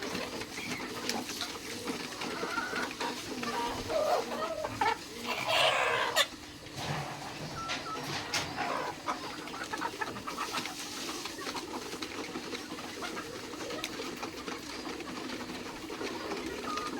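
Local chickens on a small farm that also keeps pigs and ducks, clucking and calling with bird coos mixed in, steady and moderately close, with a louder burst near the middle and no speech.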